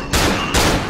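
Pistol gunfire in the horror video game Cry of Fear, two loud, sharp shots about half a second apart, each ringing out briefly at close range with no talk.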